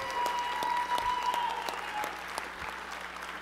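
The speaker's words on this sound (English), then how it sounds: "give them a round of applause" An audience claps steadily at a live gaming convention keynote, a sustained round of applause at moderate distance, with a faint tone ringing underneath.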